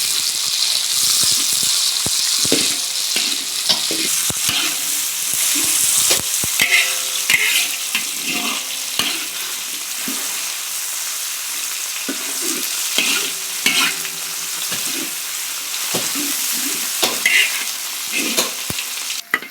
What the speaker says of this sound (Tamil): இப்போ நம்ம தக்காளி போட்டுக்குவோம்.